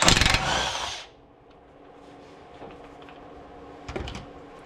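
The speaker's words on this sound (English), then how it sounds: "So go ahead and grab your impact and just take it off." An impact wrench removing a 21 mm ball joint nut on an S550 Mustang during control arm replacement, a loud rattling burst for about a second, then quieter clinks and tool handling with a brief clatter near the end.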